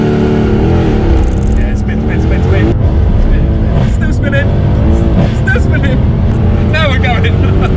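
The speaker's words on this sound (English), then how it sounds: "Let's do a launch, guys. See what the C63 launch is like." A tuned Mercedes C63 AMG launches with wheelspin, its engine roaring loud and continuous with rising and falling revs and tyre squeals, while people talk over it.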